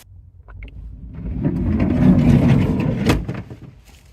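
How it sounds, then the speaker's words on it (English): At night outside a parked camper van, a car engine rumbles in, growing louder as it draws close over a few seconds, then fades back down into quiet. "There's definitely a car pulled up outside."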